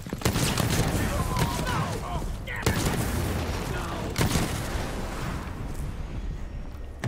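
Gunfire in Dishonored 2 cracks in sharp, loud shots amid booming, chaotic combat noise, several blasts spread over a few seconds under a continuous roar, with a player talking over it.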